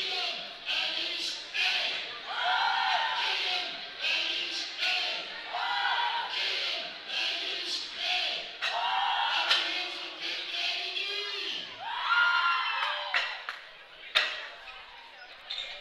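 Crowd at a 2015 USAPL Collegiate Nationals powerlifting meet cheering, whooping and shouting continuously and loudly, with yells rising and falling over a steady roar and an announcer's voice mixed in.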